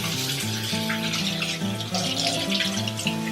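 Rice is rinsed with a small amount of water, giving soft close sloshing and trickling with light splashes over a few seconds.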